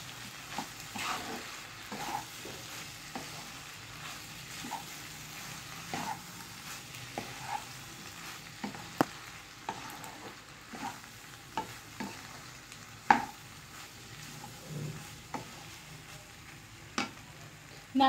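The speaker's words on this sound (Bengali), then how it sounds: "খুলে সুন্দরভাবে একটু নেড়ে চেড়ে দিব।" Chicken pasta is stirred in a pan over a quiet sizzle, with frequent soft scrapes and clinks from the utensil spaced irregularly through a long stretch. It is faint, with no voices.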